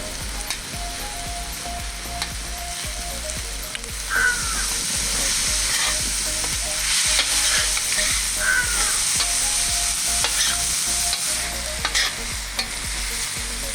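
Chopped tomato stirred into onions frying with salt in a pan for Kerala-style fish pollichathu: a steady, close sizzle with repeated spatula scrapes and knocks against the pan, no talking.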